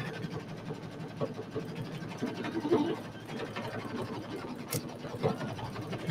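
An embroidery machine runs steadily while sewing a satin stitch outline on a pillow design in a 6x10 hoop, giving a constant mechanical whir with rapid needle rhythm and no pauses.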